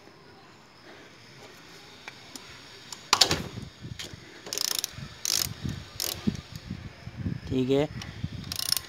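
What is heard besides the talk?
ratchet with 17 socket loosening motorcycle bolt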